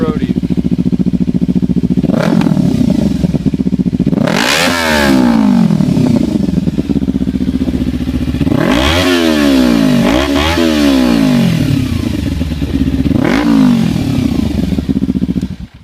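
A 2014 Kawasaki Ninja 300 fitted with an MGP Growler slip-on exhaust idles loudly nearby, then gets several sharp throttle blips that rise and fall in pitch, with a deep throaty burble between them.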